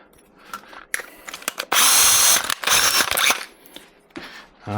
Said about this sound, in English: so I don't want to drill a 9mm hole if I don't have to